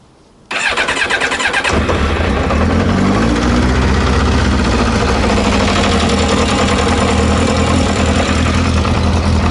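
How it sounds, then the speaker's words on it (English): A Yamaha Diversion motorcycle engine cranks briefly, catches and settles into a steady, loud idle, heard close up with an even throbbing rumble throughout. "So we'll see if it starts up on without choke. I'll give it a bit of choke."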